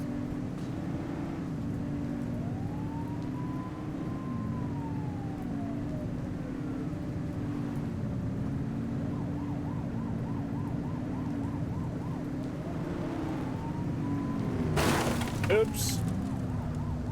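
A police car siren wails in the police video game The Precinct, rising and falling in long sweeps and then faster yelps over a steady engine drone, with a brief burst of crashing noise near the end.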